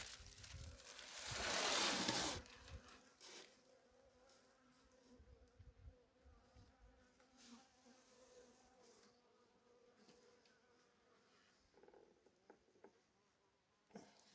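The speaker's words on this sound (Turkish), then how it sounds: "Arı uçuyor, hareketli arı." Bees buzz around a queenless hive, a loud close pass at first, then a steady low hum of insects flying nearby with faint clicks of handling.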